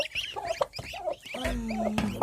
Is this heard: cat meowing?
no